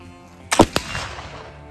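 A single sharp gunshot test-fires black powder milled with bamboo charcoal (long mill): one loud crack with a quick echo, followed by a fading outdoor decay.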